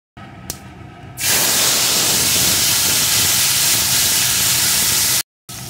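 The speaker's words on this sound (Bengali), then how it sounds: "এখন যে তরকারিটা নামিয়ে রেখেছিলাম ওই তরকারি থেকে একটু একটু করে চামচে প্রথমে দিয়ে দেব" A spoonful of bitter gourd and fish curry hits hot tempering oil and erupts into a loud, steady sizzle that holds for several seconds, then cuts off briefly before resuming, after a few small clinks beforehand.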